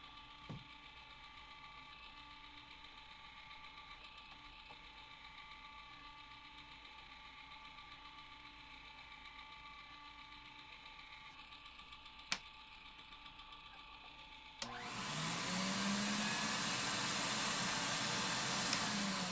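Vacuum suction from a Pro-Ject VC-S record cleaning machine switches on near the end as a loud, steady broadband whoosh with a low hum, after a quiet stretch of faint mechanical background.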